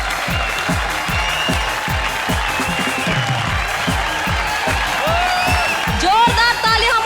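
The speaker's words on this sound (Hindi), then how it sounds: "जोरदार तालियां हमारी सारी सुपरहिट जोड़ियों के लिए" Studio audience applause on a comedy show, dense rhythmic clapping from a crowd that holds steady, with music and a raised voice over it toward the end.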